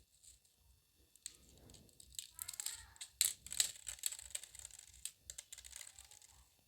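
A dried Cassia fistula legume pod being broken open, giving quiet dry crackling and clicking snaps in scattered bursts, close up and faint.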